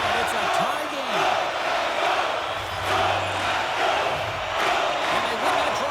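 An ice hockey crowd roars and cheers steadily through a tied game, a dense, loud wash of voices with occasional whoops, while a commentator talks over it.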